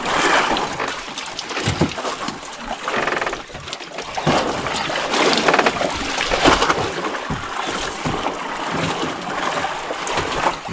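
A boat motor runs steadily on the open Pacific Ocean during a tuna fishing trip, a loud continuous roar mixed with splashing water, with no voices heard.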